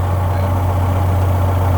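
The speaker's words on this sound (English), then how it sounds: "See, that engine should have died by now." Aircraft engine idling on the ground during a preliminary run-up at annual inspection, a steady low droning rumble, loud and continuous, failing to die after shutoff.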